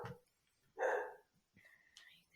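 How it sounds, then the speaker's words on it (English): A pet dog in the background gives a sharp bark and a few soft whimpers, faint and intermittent amid quiet surroundings. "there's my dog back there."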